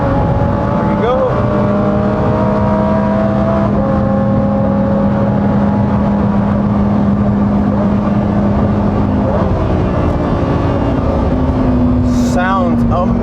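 The engine of a 2021 Lamborghini Huracán STO runs flat out on a bumpy race circuit, a loud, sustained roar with rising pitch sweeps as it climbs through the gears. Near the end, a brief whining sweep and a faint click can be heard.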